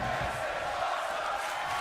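Arena crowd noise from a WWE 2K25 wrestling game, a steady dense roar of cheering spectators after a suplex through a table, sustained and even throughout without pauses.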